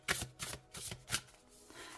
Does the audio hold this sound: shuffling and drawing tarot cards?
yes